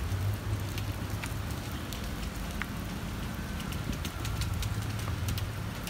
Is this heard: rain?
yes